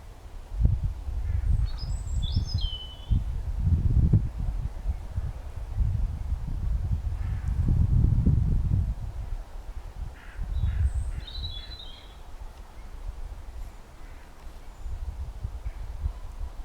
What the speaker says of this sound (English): I hope you all heard all the little birds chirping away.